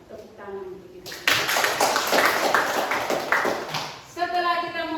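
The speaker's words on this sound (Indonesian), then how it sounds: "Tepuk tangan untuk kita." An audience claps in a brisk burst lasting about three seconds, framed by a voice talking before and after.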